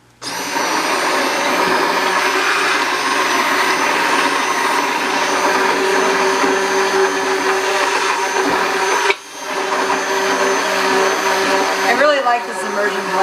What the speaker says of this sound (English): I like this immersion blender.